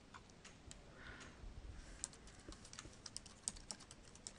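Someone types an email address on a computer keyboard, producing quick, irregular, faint key clicks close by in a quiet room.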